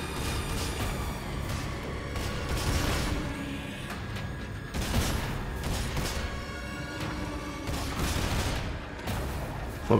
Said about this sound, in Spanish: le disparo una vez al tentáculo y muere